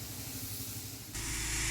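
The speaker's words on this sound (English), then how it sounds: "the wide fan nozzle is doing brilliant, getting all the algae off the top of this decking" A pressure washer with a wide fan nozzle sprays algae-covered composite decking: a steady close hiss that jumps abruptly louder and brighter partway through as the jet hits the surface.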